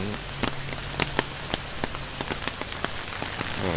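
Steady rain falls through the rainy season in Luang Prabang, Laos, a continuous soft hiss with scattered sharper drops tapping on a nearby surface, fairly close and with no voices.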